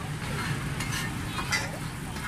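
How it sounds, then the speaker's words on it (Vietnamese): Egg and rice-flour cake batter frying on a street-food cart in Saigon, a steady close sizzle with light stirring and scraping throughout, no talk. "Bây giờ mời cả nhà cùng theo dõi anh này chiên bột này cả nhà."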